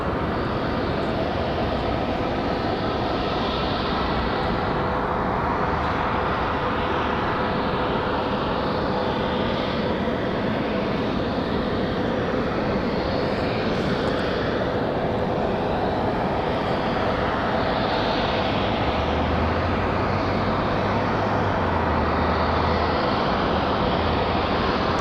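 A Southwest Boeing 737 MAX 8 takes off at Raleigh-Durham International Airport, a loud, sustained jet roar with broad rumble. A deep engine drone swells near the end, and no voices are heard.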